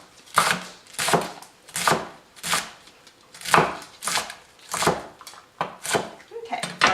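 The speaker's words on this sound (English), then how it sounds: "you just want to kind of run your knife through it a little bit and get some like nice easy slices" A knife slices through cabbage for slaw on a cutting board, about a dozen crisp crunching cuts in a steady rhythm, close and clear.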